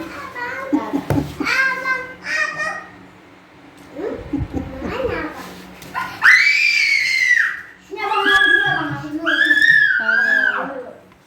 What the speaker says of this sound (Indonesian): Jangan teriak-teriak loh.